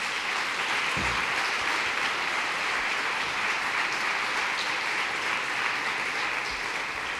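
A church congregation claps as an offering of praise, a dense, even wash of applause sustained for several seconds and filling the room.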